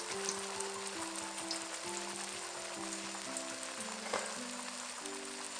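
Curry paste and lemongrass frying in a pan for a Chinese-style mixed vegetable curry, a steady close sizzle and crackle running throughout with no talking.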